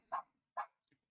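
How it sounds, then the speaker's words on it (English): A dog barks twice at close range in a quiet room, two sharp evenly spaced barks followed by a faint softer yip. "That's Titus barking"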